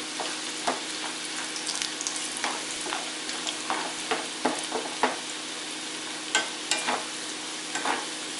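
Masala-coated peanuts fry in hot oil with a dense, steady sizzle, and occasional sharper crackles and pops rise close and clear above it.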